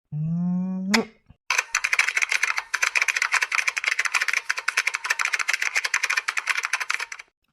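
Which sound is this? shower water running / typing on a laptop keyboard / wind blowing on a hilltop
typing on a laptop keyboard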